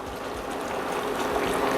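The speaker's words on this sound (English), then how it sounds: "Little bit of hot water. I'm going to be using about another cup here." About a cup of hot water is poured into a simmering pot of Jamaican curry oxtail, a steady, continuous close-up splashing flow with no talking.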